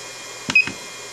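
A battery charger's beeper sounds once, a short thin high tone with a couple of soft clicks around it, otherwise quiet.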